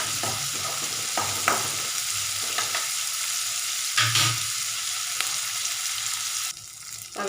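Chana dal and urad dal sautéed in a pan with oil for mint chutney, a steady close sizzle with intermittent scraping stirs of a spoon against the pan, no talking.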